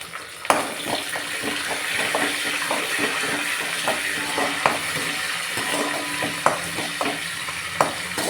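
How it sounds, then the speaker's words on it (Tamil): Dried red chillies and curry leaves frying in hot oil, a steady dense sizzle with sharp crackles and pops at intervals, close and loud, no voices. "அடுத்தது கருவேப்பிலை போட்டுக்கலாம்."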